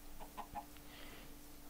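Chickens cluck in Minecraft, giving a few short, faint blocky clucks in quick succession over a quiet game background.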